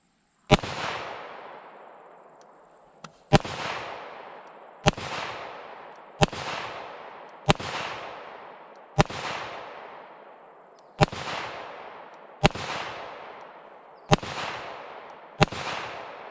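A Para Ordnance pistol fires nine sharp, loud shots at uneven intervals of one to two seconds, each crack trailing off in a long ringing decay, with no talk between them.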